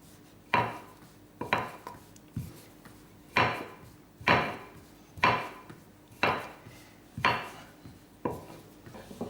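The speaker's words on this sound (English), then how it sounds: "we're just going to take our rolling pin and start to roll these out and turn them" Rolling pin working dough into small discs on a surface, a steady series of about ten knocking wooden thuds and short rolling rubs, evenly spaced and close by, with no talk.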